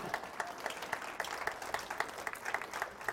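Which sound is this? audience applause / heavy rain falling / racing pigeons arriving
audience applause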